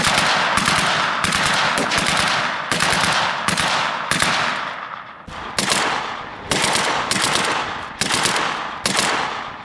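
A machine gun fired from the hip while the loader steadies the barrel, loud close bursts of rapid automatic fire, around ten separate volleys in an uneven rhythm with brief gaps between them.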